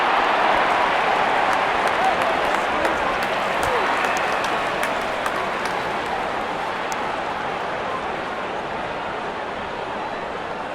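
A large crowd fills a cricket stadium during an India versus West Indies T20 World Cup match, making a dense, continuous roar of cheering and applause that fades slightly toward the end.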